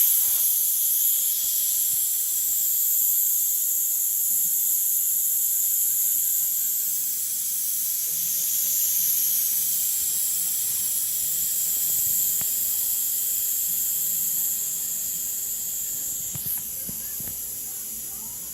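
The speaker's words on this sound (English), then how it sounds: "Release the pressure." Steady high-pitched hiss of a pressure cooker venting steam after cooking salmon and steak, continuous and fairly loud for the whole stretch with only faint background noise beneath.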